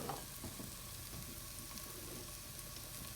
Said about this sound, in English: So we're going to cook our other vegetables. So I'm going to start with my zucchini. And I think I'll throw in my mushrooms now too.